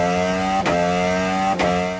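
A KTM 1290 Super Duke R with an Austin Racing full titanium exhaust holds a loud, close, raspy rev, dipping sharply twice before climbing back up.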